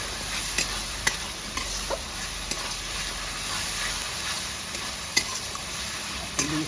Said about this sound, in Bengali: এবার এখানে দেবো আদা রসুনের পেস্ট, 2-3 মিনিট ভালো করে নেড়ে চেড়ে নেবো।